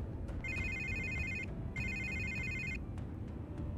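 An electronic phone ringtone in the Batman Telltale Series video game, two bright warbling bursts of ringing separated by a short pause, heard clearly over a steady low ambient background.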